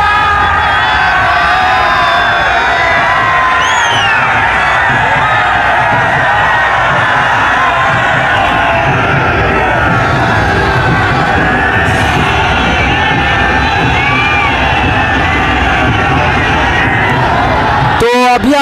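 Huge crowd at the Shiv Barat procession in Deoghar: a dense, loud, unbroken roar of many voices with yells, whoops and whistles rising over the din throughout.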